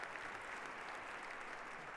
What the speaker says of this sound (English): Let them clap. Let them clap.